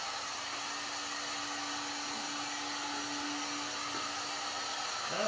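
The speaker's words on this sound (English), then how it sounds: "So, I have a simple Black & Decker heat gun." A cheap Black & Decker heat gun blows hot air over vinyl being fitted to an aluminum door panel, a steady close whooshing hiss with a faint constant whine running beneath it throughout.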